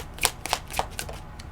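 Tarot cards are shuffled by hand nearby, giving a quick series of soft, crisp riffling flutters and taps over a quiet room.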